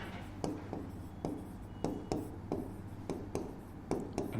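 Marker or chalk writing on a board during a maths lesson: repeated light taps and short scratchy strokes at a steady uneven rhythm, close and soft over a low background hum, with no talking.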